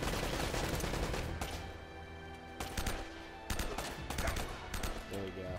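Gunfire rattles in Uncharted: Drake's Fortune, with repeated bursts of shots at moderate volume and brief gaps between them, no talk over it.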